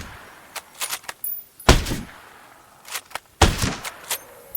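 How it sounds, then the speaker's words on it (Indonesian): Several sharp, short video game gunshots ring out in irregular bursts, with quieter clicks and clatter between them. "saya akan mulai menembak"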